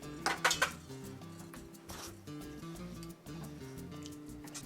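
Pasta is stirred in a pot for Mexican mac and cheese, with metallic clinks and scrapes of a utensil against the pot at the start and scattered later, over a soft musical background.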